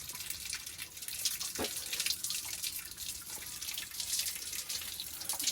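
Water runs and splashes steadily while a boy bathes in warm water outdoors, a continuous moderate hiss with small irregular spatters and no talk.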